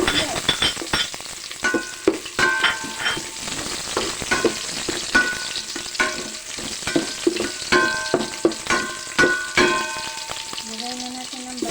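Garlic and onion fry in a pan, sizzling steadily while being stirred, with close scraping strokes and clinks of the utensil in an irregular rhythm.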